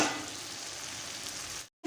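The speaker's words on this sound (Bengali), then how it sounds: "নুন হলুদ দিয়ে আলুটাকে ভালো করে ফ্রাই" Potatoes fry with salt and turmeric in a pan, sizzling steadily up close before the sound cuts off briefly near the end.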